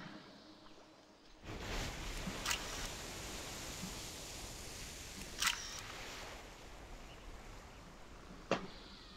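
Selfie camera shutter in World of Warcraft, three sharp, crisp clicks spaced a few seconds apart over a low, quiet hiss, with no talk.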